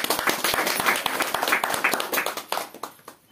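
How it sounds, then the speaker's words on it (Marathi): An audience claps at a women's day song programme, a dense patter of many hands that swells and then thins out toward the end. "तर आपण जोरदार टाळ्या तिच्यासाठी वाजवल्या"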